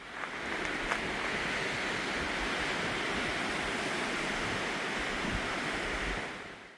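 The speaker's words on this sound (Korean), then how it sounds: "오늘 바람이 꽤 강했는데요" Strong wind on a coastal mountain trail, a loud, continuous rushing roar that stays at an even level before easing off at the end, with no voices.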